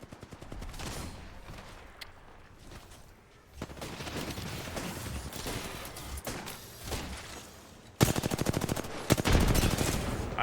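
Rapid bursts of automatic gunfire from an Apex Legends battle, with R-301 and Mozambique weapons in use, crackle in repeated volleys over continuous game ambience, growing louder and denser toward the end.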